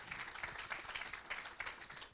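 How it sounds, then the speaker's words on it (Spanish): An audience at an innovation panel discussion applauds the panelists, a brief burst of dense, steady clapping heard from within the room. "les pido un aplauso para ellos tres"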